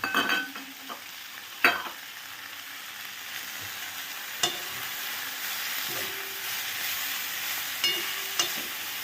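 Paneer sizzles and fries in a pan with coriander leaves while a spoon stirs it, giving a steady close hiss broken by sharp scraping clicks of the utensil against the pan.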